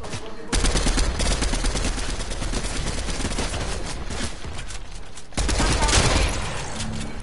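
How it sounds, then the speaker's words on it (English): Rapid, continuous machine pistol gunfire in the video game Fortnite, loud and close, with a short pause before the bursts resume. "Who's shooting?"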